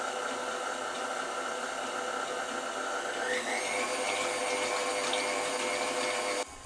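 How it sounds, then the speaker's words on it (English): A steady, high-pitched motor whine from a stand mixer whipping cream, running continuously, its pitch rising partway through as the speed increases, then cutting off. "Increase the speed to 6 out of 10 and let the mixer do its thing."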